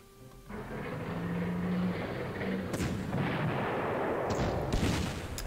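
An anti-tank cannon fires in the war strategy game Panzer Corps, a loud booming blast followed by rolling, crackling rumble and a second sharper report near the end.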